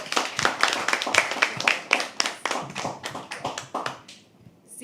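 An audience at a live poetry open mic at The Habitat applauds as a performer walks on stage, steady close clapping that runs for several seconds before tapering off.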